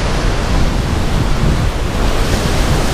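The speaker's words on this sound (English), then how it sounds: "as you can see, it is very windy" Strong wind buffets the microphone over steady crashing surf at Sebastian Inlet, a loud, continuous roar of waves and gusts with no talking.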